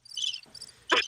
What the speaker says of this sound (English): There's crickets playing right now, London.